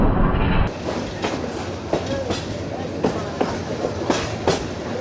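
The Kalni Express passenger train rolls on the rails toward Shayestaganj junction, its wheels beating out a steady clickety-clack with regular sharp knocks over a continuous rumbling roar, heard from inside the carriage.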